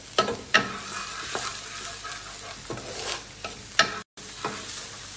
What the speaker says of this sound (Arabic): احمس البصلة بالسمن، بعدين انزل البطاط.